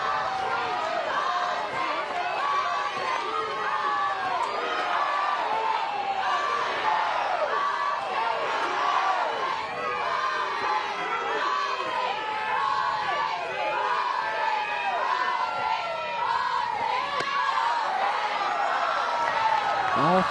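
A sold-out stadium crowd at a softball game, Oklahoma vs OSU, makes a steady restless roar of many voices with scattered shouts and whoops, loud and continuous throughout.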